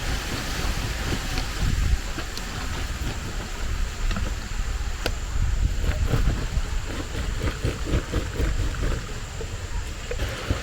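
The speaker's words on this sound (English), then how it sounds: "You can see the breeze." Gusty outdoor wind rushes steadily before rainfall, buffeting the microphone with a continuous roar and low rumbling gusts, no voices present.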